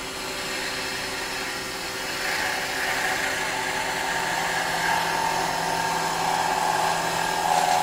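Skew chisel cutting wood on a spinning lathe, a steady close whirring hum with a continuous buzzy vibration and no pauses.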